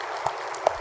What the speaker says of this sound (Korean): 감사의 박수를 우리 예수님께 드립니다.